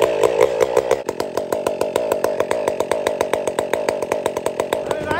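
Stihl MS500i chainsaw running close and loud with a test muffler on its header pipe, a harsh buzzing drone with a rapid rhythmic pulsing throughout.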